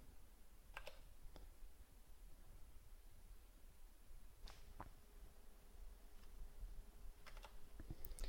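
Sparse keystrokes on a computer keyboard during a Ruby on Rails install on Windows, a few quiet scattered clicks in small clusters against a faint hiss, with no talking.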